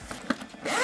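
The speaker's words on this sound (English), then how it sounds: "You unzip that" The zipper on top of a Shrine Weekender sneaker backpack is pulled open, a short, close, quiet zipping rasp lasting under a second.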